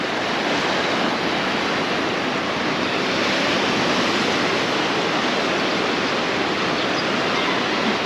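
Steady, dense roar of ocean surf at Paguera beach in Mallorca, where surfers ride the waves, a continuous broadband wash with no distinct breaks, loud and uninterrupted, with no talk.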